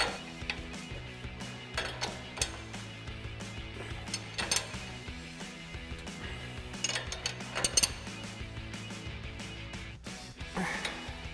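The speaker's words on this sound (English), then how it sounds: "Now we're going to go ahead and tighten down our castle nut for our ball joint seat into our knuckle." A 22mm wrench tightening a castle nut on a ball joint into a steering knuckle, with clicking ratchet-like metal ticks and occasional clanks that come and go across the span, close by with no talk.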